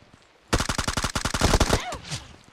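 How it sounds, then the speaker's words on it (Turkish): Automatic gunfire in the video game PUBG: a single rapid burst of about a dozen evenly spaced shots, loud and close, that breaks off abruptly, followed by faint trailing sounds. "Başkası ona sıkıyor, bana sıkıyor."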